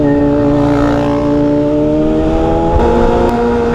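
Kawasaki motorcycle engine revving hard during an exhaust sound check, a loud, steady, close drone with strong even harmonics holding at high revs throughout, no voices over it.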